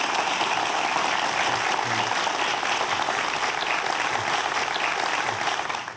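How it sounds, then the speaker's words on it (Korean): A lecture audience applauds a talk on the history of life, sustained and dense for several seconds, easing off slightly at the very end. "큰 박수 부탁드립니다"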